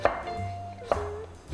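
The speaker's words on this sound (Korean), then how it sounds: "우엉은 다른 채소에 비해서 굉장히 단단하거든요. 익혀도 단단해요. 그래서 이거는 이렇게 약간 사선으로 이렇게 해서 썰어" A knife slices through a hard burdock root at a diagonal on a cutting board, three crisp chopping knocks spaced evenly apart, close and clear against quiet background music.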